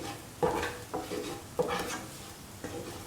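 A spoon stirs salt into a thick pumpkin and curried shrimp stew in a pot. It makes rhythmic scraping strokes about once a second, close and moderately loud, with a soft wet churn between strokes.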